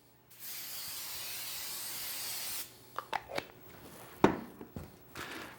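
Cooking pan spray hisses onto a baking tray in one steady burst of about two seconds, close and fairly loud, followed by a few light clatters and scrapes of the tray being handled.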